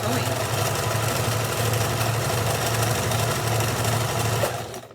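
A sewing machine stitches fabric for a scrunchie, a close, rapid, steady mechanical whir that runs for several seconds before stopping abruptly.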